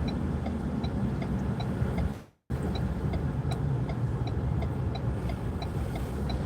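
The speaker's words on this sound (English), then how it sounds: "Let's wait for these cars to go past me." Cars rolling past on a snowy road during a commute near Niagara, a continuous loud rush of tires and engines with a brief cut-out midway and faint rhythmic ticking in the background.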